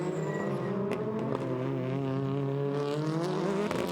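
TCR touring race cars howl through the Hockenheimring hairpin, a steady close engine drone with layered harmonics and short sharp bursts, no talk over it.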